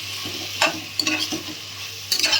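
Salt being stirred into Maharashtrian prawn rice in a pan, giving a few soft, close scraping strokes over a low steady kitchen hum, with no talk.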